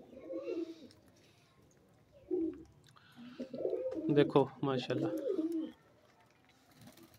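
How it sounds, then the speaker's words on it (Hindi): Pigeons coo in soft, throaty bursts close by, with someone speaking briefly over them. "कबूतर मस्ती कर रहे हैं फुल।"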